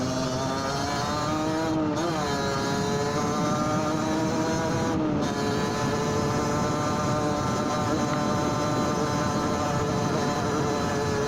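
A motorcycle engine labours up a slope, its steady droning tone held throughout with a slight pitch dip and rise partway through, loud and close for about eleven seconds.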